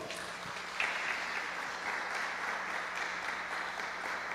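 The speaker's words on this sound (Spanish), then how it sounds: "¿Le puede dar un aplauso al Señor?" A church congregation applauds during a Sunday service, a steady wash of clapping that holds at an even level throughout, heard from a moderate distance.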